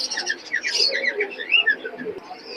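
Pigeons, including teddy pigeons, call in layered coos and chirps at the Big Bazar pigeon market in Khulna, fairly close and continuous, with faint voices in the background.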